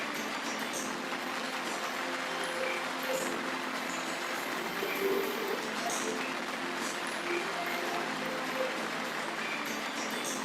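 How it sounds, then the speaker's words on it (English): Steady audience applause at a corporate learning and development festival, dense continuous clapping that holds at an even level for about ten seconds with no talk over it. "Clap, clap, clap, clap, clap, clap, clap it out loud"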